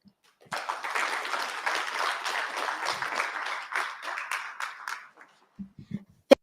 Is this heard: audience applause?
yes